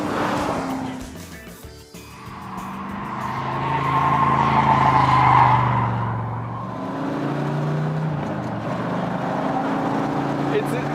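A Chevrolet Corvette Stingray driven hard, its engine note rising and falling through gear changes with rushing wind and tire noise, while someone talks over it.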